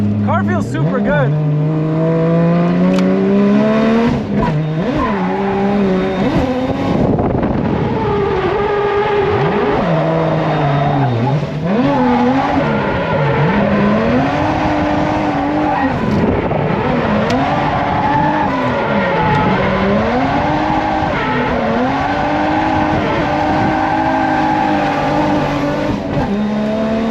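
Subaru WRX STI fitted with a new K&N air filter driving hard, engine loud and close, revving up and down with shifting pitch and occasional tire noise throughout.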